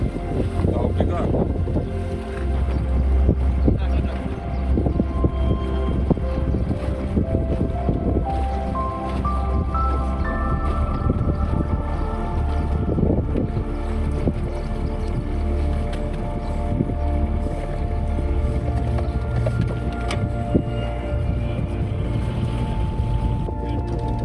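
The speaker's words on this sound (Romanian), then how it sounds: "Cu un vânt ușor de 6-8 noduri din est, navigația e liniștită, marea calmă" A sailboat moving on a calm sea in a light easterly breeze of about 6–8 knots, with steady wind rush and water noise, a low continuous hum underneath and occasional voices and creaks on board.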